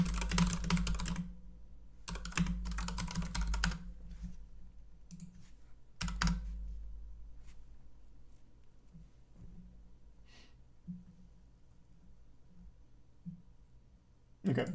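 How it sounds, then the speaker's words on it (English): Rapid bursts of typing on a computer keyboard, close and clicky, arriving in clusters with pauses between, with a few scattered lone keystrokes later on. "I wanted to check one more variation of typing it in"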